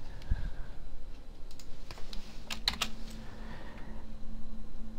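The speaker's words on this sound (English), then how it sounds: "Finally, typing another parenthesis to close up this little set." Quick, irregular clicks of a computer keyboard being typed on, close and fairly soft, with a faint steady hum underneath.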